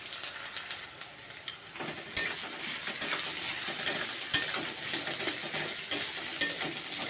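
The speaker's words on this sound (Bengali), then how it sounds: "এখন আমি কেটে রাখা পেঁয়াজগুলো এখানে দিয়ে দেব, আর দিয়ে দেব কেটে রাখা লঙ্কাগুলো, দিয়ে একটু হালকা করে ভেজে নেব।" Chopped onions and chillies sizzle in hot oil in a pan, a steady crackling fry close by with scraping stir strokes, getting louder and busier after they go in.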